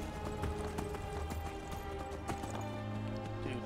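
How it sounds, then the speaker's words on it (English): Rhythmic hoofbeats of a galloping horse in the video game Skyrim clatter over a low droning game soundscape, steady and fairly close. "Riding a horse."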